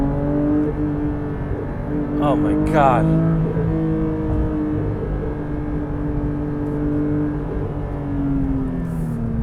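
A Porsche 992 GT3 Touring with a manual gearbox accelerates hard uphill, its engine holding a loud, steady multi-harmonic drone from inside the cabin as the driver exclaims briefly.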